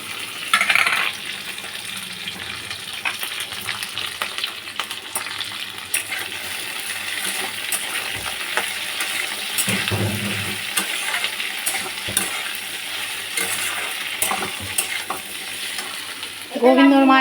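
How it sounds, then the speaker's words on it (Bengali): Okra cooks in hot oil with panch phoron spices. A steady, loud sizzle carries stirring scrapes and occasional utensil clinks, with louder bursts at the start and end. "এই ঢ্যাঁড়সগুলো তেল গরম হয়ে গেছে দিয়ে দিলাম"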